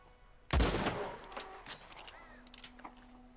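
A single loud gunshot rings out in the Red Dead Redemption 2 video game during a bison hunt, with a sharp blast that trails into a fading rumble and faint scattered game noise, and no voices.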